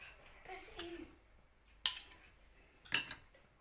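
Spoon scraping and clinking against a bowl while egg is mixed into dry ingredients and ghee, two sharp metallic taps standing out amid quiet stirring and faint background voices.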